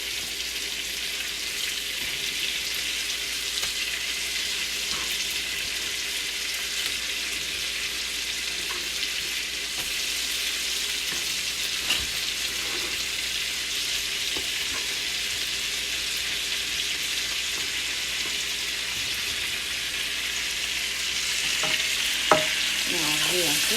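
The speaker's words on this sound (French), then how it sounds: "Mélanger un peu, pas que ça brûle en bas." Zucchini frying in a pan with colored bell peppers, a steady close sizzle running throughout, with occasional soft scrapes and taps as the vegetables are stirred.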